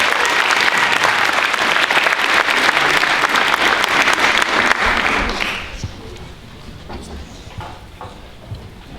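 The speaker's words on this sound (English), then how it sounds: "How about one more round of applause for Mr. Ryan Bauman on guitar, Mr. Jack Gros" Enthusiastic applause from a crowd at a high school band winter concert, dense clapping for several seconds that fades down to scattered claps and room noise.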